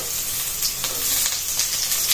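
Onions sizzle in a frying pan over garlic already cooking, a close, continuous crackling hiss with light stirring clicks.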